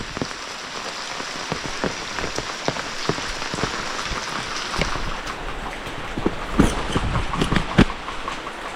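Heavy monsoon rain drums on surfaces at a Konkan village house, making a constant wash with sharp drips and patters scattered throughout and no voices.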